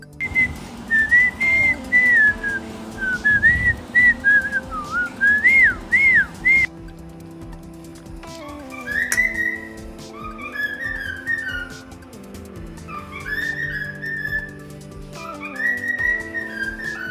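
A cockatiel whistles a tune, clear and close: warbling, rising and falling melodic phrases, then a run of shorter repeated whistled notes over soft background music, no speech.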